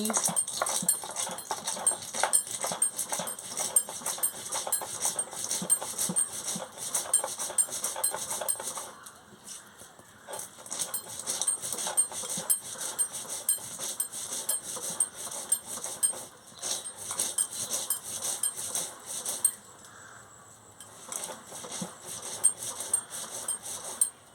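Mustard seeds being ground into paste on a traditional grinding stone in a home kitchen, a steady rhythmic scraping and knocking with a few short pauses, moderately close.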